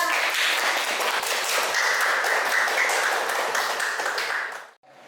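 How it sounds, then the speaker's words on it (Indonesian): A classroom breaks into steady group applause for a student, dense clapping that holds evenly for about four and a half seconds and then cuts off abruptly. "tepuk tangan untuk Yola"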